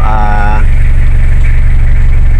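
A Toyota Revo with a 2L diesel engine runs at a steady idle, loud and close, with a continuous low rumble and vibration throughout.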